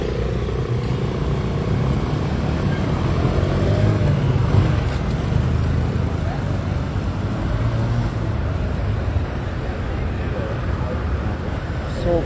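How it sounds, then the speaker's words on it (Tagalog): A motorcycle fitted with an open muffler rumbles loudly and continuously on a city street in Iloilo City, a coarse steady exhaust roar with traffic noise around it. "maglapaw ang tunog sa motor mo sa CC sang imo motorsiklo, meaning open muffler ang ginagamit mo"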